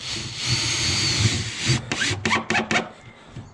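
A screw is driven into wooden formwork for a lintel, a close grinding buzz from a screwdriver followed by several short bursts as the screw seats.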